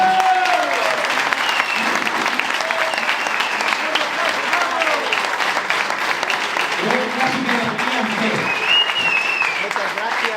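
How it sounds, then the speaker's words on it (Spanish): Sustained applause from an audience at an awards ceremony for a tracking-dog trial, steady and loud for the whole stretch, with voices and cheers mixed into the clapping. "Forte aplauso, por favor."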